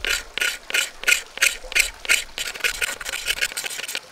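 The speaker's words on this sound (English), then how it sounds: "And this you make by just scraping in the direction of the horn fibers" A Swiss Army knife blade scraping along the fibers of a horn being shaped into a Viking drinking horn outdoors, a close, steady rasp in regular strokes about three per second, growing quicker and denser toward the end.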